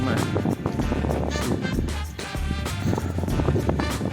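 Strong gusty wind on the snowy summit of Petros in the Carpathians buffets the microphone, a loud, continuous roar with rushing surges and no voices.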